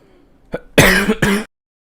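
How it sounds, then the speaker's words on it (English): A short burst of two or three harsh coughs into a microphone, close and loud, with a brief sharp catch before it, then silence. "Oh my god, I coughed into the mic."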